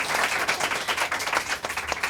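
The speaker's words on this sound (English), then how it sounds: "Give her applause, guys." A small live studio audience at a university housing game show claps loudly and steadily, a brisk dense patter of hands close by, with no talking over it.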